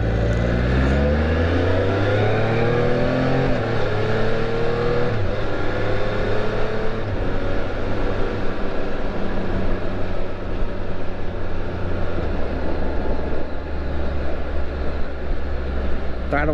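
A 2021 Can-Am Spyder on a demo ride accelerates hard, its engine note climbing steadily through rising revs over constant wind rush, loud and close from the rider's position.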